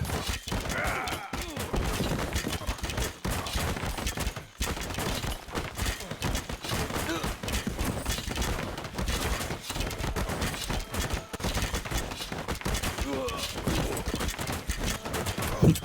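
Archers in the video game Stick War Saga loose arrows during a battle, making a dense, continuous barrage of rapid overlapping snaps and impacts that fills the whole stretch at steady loudness.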